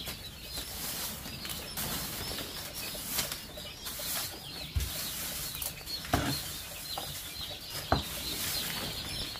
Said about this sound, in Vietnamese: Đàn gà đẹp đấy, nhờ.